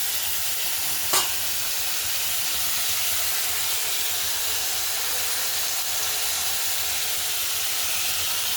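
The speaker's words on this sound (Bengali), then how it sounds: "পেঁয়াজ কাঁচা লঙ্কা তেলের মধ্যে দিয়ে একটু হয়ে তারপরে সবজিগুলো দিয়ে দিচ্ছি, নাড়াচাড়া করে।" Onion, green chili and vegetables fry in hot oil, giving a steady, loud sizzle and hiss throughout, with a single brief clink of stirring near the start and no talking.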